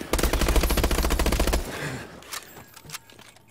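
Rapid automatic gunfire in a multiplayer shooter video game, a dense burst of loud shots for over a second followed by scattered sharper single shots and quieter game sounds.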